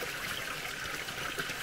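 Water trickling steadily from a village water spout in Nepal, a continuous close splashing hiss with no pauses and no voices.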